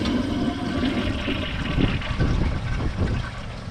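A 2025 Kohler Pressure Lite pressure-assist toilet on its second flush gives a continuous close rush of water with gurgling pulses, steady and fairly loud throughout, with no talking.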